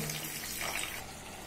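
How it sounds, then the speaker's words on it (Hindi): Water streams from a tap into soy keema cooking in a pan, a fairly quiet continuous pouring hiss with a brief fuller gush midway, no voices over it. "इसको थोड़ा सा मॉइस्ट करने के लिए पानी डाल देते हैं"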